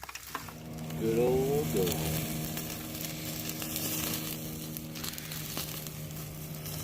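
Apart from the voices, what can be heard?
homemade sausage cooking over campfire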